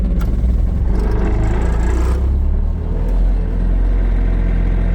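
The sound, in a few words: John Deere 210G excavator diesel engine running, warming up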